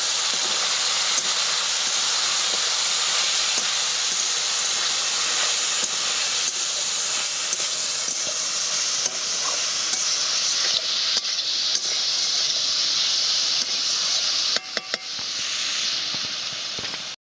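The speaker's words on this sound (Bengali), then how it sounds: "এবার এটাকে খুব ভালো করে আগে ভেজে নেব।" Potatoes frying in a pan with cumin and coriander powder give a steady, loud hiss and sizzle that runs without a break, with a few brief clicks near the end.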